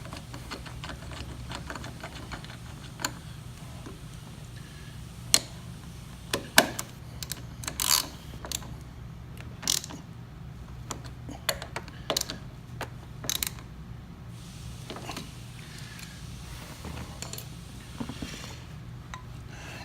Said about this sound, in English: you're going to tighten these down to 20 foot-pounds